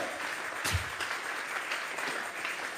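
A congregation at a Bible study service claps together in a dense, steady wash of applause that holds at an even level throughout, with no clear voices on top.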